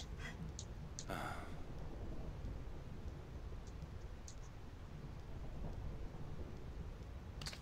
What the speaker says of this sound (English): I hate lightning. I hate thunder.